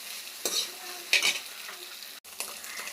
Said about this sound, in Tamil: நல்லா சுருண்டு வர மாரி நல்லா ஃப்ரை பண்ணிடுங்க.